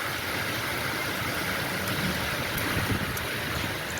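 Rainwater from a storm near Mettupalayam runs like a river in front of the spot, making a continuous, fairly quiet rushing wash with a soft gusty edge and no voices.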